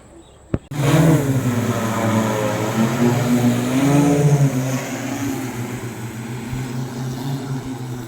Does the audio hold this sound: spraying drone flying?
yes